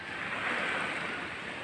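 Ocean waves washing against a rocky shoreline in Masbate, a steady broad wash of surf with some wind rumble, continuous and moderately loud, without talk.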